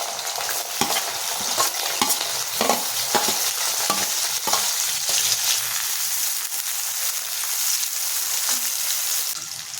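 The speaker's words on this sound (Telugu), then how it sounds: "ఇప్పుడు సన్నగా కట్ చేసి పెట్టుకున్న ఉల్లిపాయ ముక్కలు వేస్తున్నానండి" Thinly sliced onion pieces hit hot oil already holding mustard seeds and split lentils in a pan, a steady close sizzle with scattered pops and stirring scrapes running throughout.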